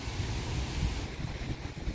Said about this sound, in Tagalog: May kunting hangin.